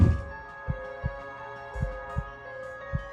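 A loud, thumping heartbeat sound effect beats in slow, evenly spaced thuds over a sustained tonal drone, dramatic and close.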